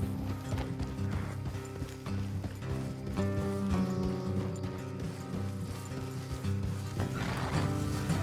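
Horses in the video game Red Dead Redemption II clip-clop at a walk and whinny over a steady bed of game music and ambience, with hoofbeats and neighs close by.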